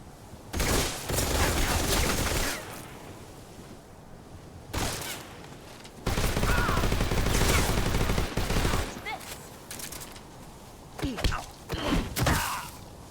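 AK rifle fire from the video game Metal Gear Solid Delta rattles out in loud sustained automatic bursts, several of them separated by short pauses, with a man's sighs and groans between them.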